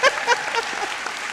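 Audience applause at a spring college commencement ceremony, with scattered claps and a few short voices over it, fairly near and moderate in level for a brief moment.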